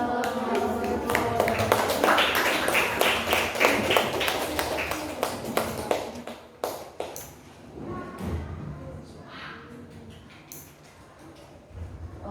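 A classroom audience applauds after a student presentation: a burst of many hands clapping, brisk and fairly loud, that thins into scattered claps and thumps with some voices mixed in.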